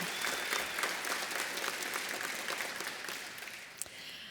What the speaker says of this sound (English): Let's give our faculty, administrators, and labor leaders a round of applause